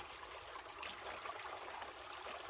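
A steady, gentle rush of creek water pours through a river sluice, close and quiet, with light gurgles and splashes over a continuous trickle and no voices.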